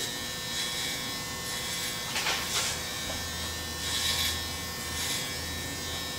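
Electric hair clippers buzz steadily through a haircut, taking a long cut down short, with a faint continuous hum and a few louder passes as the blade bites into hair, close by and without talk.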